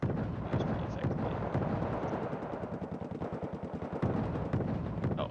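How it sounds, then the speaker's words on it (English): A BTR-70 armored vehicle in a jungle combat video game fires at APCs, rapid bursts of heavy automatic gunfire repeating in tight rhythmic volleys with booming impacts, fairly distant and continuous, under a voice. "here you can see this BTR-70 is shooting at some APCs"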